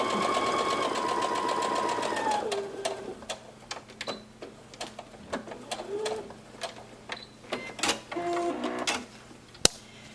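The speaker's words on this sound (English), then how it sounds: "So now I've stitched in on 1/4 inch on either side of the black line" A home sewing machine stitches a quarter-inch seam through quilt-block fabric, a steady whirring run early on giving way to short start-stop bursts and sharp clicks, close and fairly quiet with no talking.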